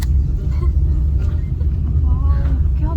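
A car rumbles along a road from inside the cabin with a steady low engine and road noise, while voices speak faintly over it.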